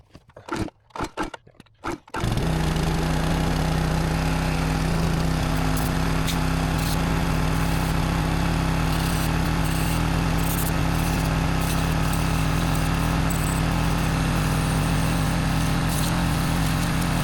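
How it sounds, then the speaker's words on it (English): Pressure washer engine starting up and running steadily while hosing down an old, long-idle CAT D8 bulldozer, a loud continuous motor drone after a few brief knocks, with spray hissing over it. "Time to hose her down."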